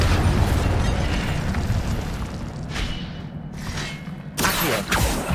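The Incendio fire spell is cast in Hogwarts Legacy, a roaring burst of flame with booming rumbles, then a second sharp fiery whoosh near the end, loud and close with no talk.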